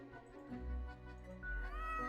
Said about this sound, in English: Meow, the cat notes while casually twirling around on her spot, pawing at the table.